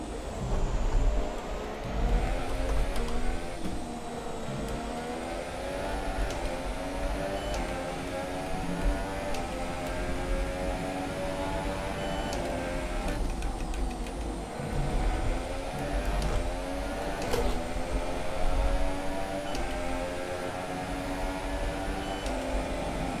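F1 2017 video game engines scream during a Haas career race at the Australian Grand Prix, with a steady, high, continuous whine that rises and falls slightly as the cars run close together.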